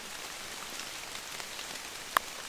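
Steady rain patters around a tree stand during an archery season opener, a soft continuous hiss of drops with one sharp tap near the end and no talking.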